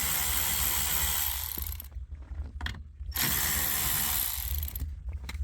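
Ratchet wrench turning out 7mm trim bolts on a 2009 Jeep Grand Cherokee dashboard, rapid close clicking of the pawl in sustained bursts separated by short pauses.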